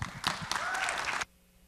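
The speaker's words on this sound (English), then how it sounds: "please give her a round of applause" A city council meeting audience claps for about a second, a short burst of applause with a voice over it, cutting off abruptly into quiet room tone.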